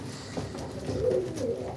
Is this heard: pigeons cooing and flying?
yes